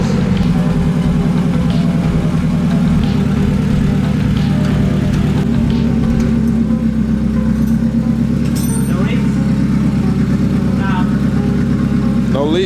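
A turbocharged Honda Accord wagon engine idles close by with a steady, throbbing low rumble, briefly blipping, while someone talks over it.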